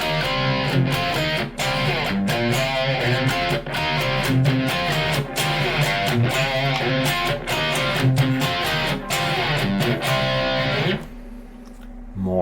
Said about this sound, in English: my rock and roll distortion